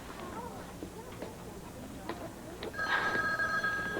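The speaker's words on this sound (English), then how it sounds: "I gotta get the phone." A telephone rings in an indoor soap-opera scene, its electronic ringing tone starting near the end over a murmur of background talk.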